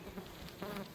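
Honeybees buzz inside an opened beehive during a varroa mite check: a faint, steady hum of many insects over one brief second, with no talking.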